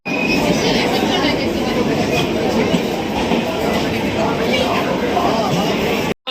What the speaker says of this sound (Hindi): ये रहा उनका ट्रेन, विक्रमशिला एक्सप्रेस